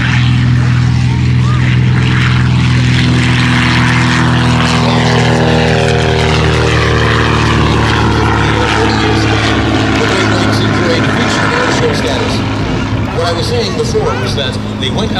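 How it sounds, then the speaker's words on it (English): A Great Lakes biplane with an inverted Ranger engine takes off at an air show, its steady loud propeller drone holding throughout while a voice talks over it. "There he is on takeoff. With an upside down engine on top of that."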